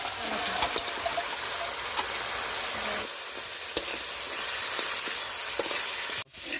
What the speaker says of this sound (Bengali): কাঁকড়াগুলো মশলার মধ্যে তুলে দিচ্ছি